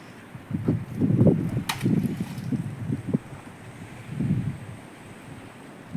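Strong gusts of wind buffet the microphone in deep rumbling bursts that rise and fade, with a thin steady hiss underneath.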